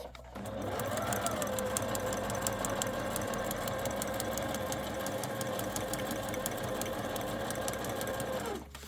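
A sewing machine runs steadily and evenly for several seconds, stitching along drawn guide lines with a close, buzzing mechanical whir that starts and stops cleanly.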